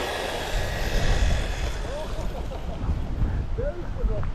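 Two RC cars, an HSP 94186 and a KidKing Pro, race side by side in a drag race outdoors, their motors a steady loud whine over wind, with people talking nearby.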